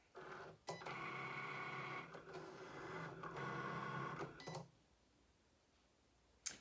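A craft cutting machine slicing an infusible ink sheet, a quiet steady whirring and buzzing of the motor and carriage that runs for about four seconds and then stops, followed by a small click.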